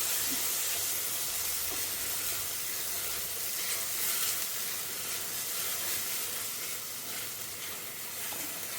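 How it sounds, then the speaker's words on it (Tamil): Steady, close sizzling of a ground paste for drumstick curry frying in a pan, a continuous crackling hiss that never stops, with no talking. "நம்ம இப்போ பச்சை வாசனை போகிற வரைக்கும் இதை லேசாக வதக்கிக்கலாம்"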